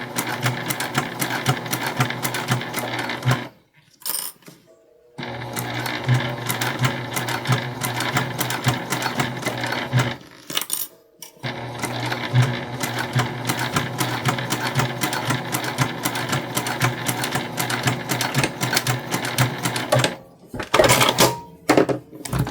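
A sewing machine stitches a fabric card lanyard in long, fast, steady runs. It stops briefly three times, the longest pause near the middle, and a short burst of stitching closes the clip.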